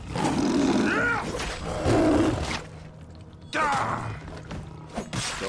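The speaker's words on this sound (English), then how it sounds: "You were growling at me. You're threatening me." A lion in Assassin's Creed Origins roars loudly and close several times in rumbling, drawn-out bursts, with thuds and game noise in the gaps.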